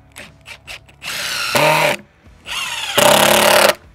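Impact driver driving screws in a long run of hundreds, with two loud sustained bursts of whirring and hammering, the second harsher, after a few short blips; no talk.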